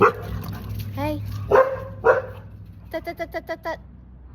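Dog barking in a short burst of five or six sharp, evenly spaced yaps near the end, after a few earlier whining or howling cries, with people talking over a low hum indoors.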